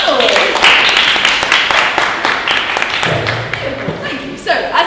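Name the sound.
audience applause for a panel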